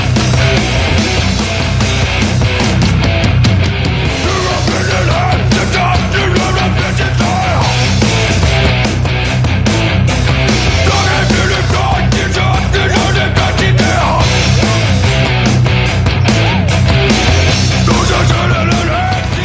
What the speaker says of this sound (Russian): Предлагаем вам заслушать композицию из категории Heavy Metal.